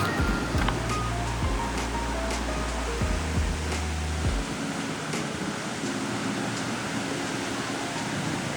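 Ocean waves at a San Diego beach wash in as a steady, broad roar, with low rumbles rising and falling beneath continuous surf noise and no voices.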